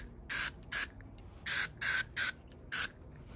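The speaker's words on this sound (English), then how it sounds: "you started spraying it on your carpet like this." Palomino leather carpet dye is sprayed onto an old Mercedes car carpet in six short, sharp hissing bursts from a spray bottle, close up, separated by brief pauses.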